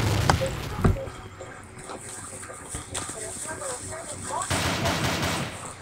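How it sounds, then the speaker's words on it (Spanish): Several sharp gunshots crack at irregular intervals in a video game, with a louder blast near the start, over a background of game sounds. "un balazo"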